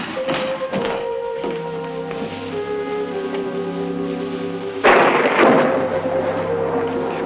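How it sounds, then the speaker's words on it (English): A sudden burst of thunder breaks in loud and close about two-thirds of the way through, rumbling on over a sustained musical score in a period drama scene. "Thunder and lightning."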